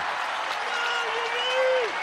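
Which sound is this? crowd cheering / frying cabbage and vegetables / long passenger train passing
crowd cheering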